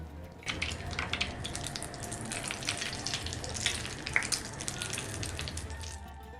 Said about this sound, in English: finally pour the sizzling hot melted butter